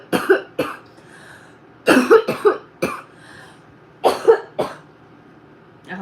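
A woman coughs close by in several short bursts, some single and some in quick clusters of two or three, with quiet pauses between them.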